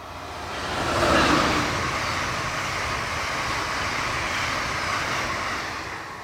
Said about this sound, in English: One of Amtrak's Northeast Regionals heading to New York and Boston.